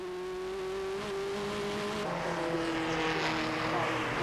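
A TVR Tuscan race car prepared by Colin Blower Motorsport runs on toward the right-hander at Bridge Bend, its engine a steady loud drone that rises in pitch as it accelerates, with commentary over it.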